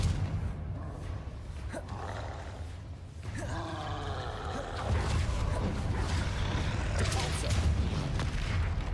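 Spells cast in a wizard video game, Descendo, Levioso and Confringo, go off as booming, roaring magical blasts and crackling bursts, loud and near, with a player speaking over them.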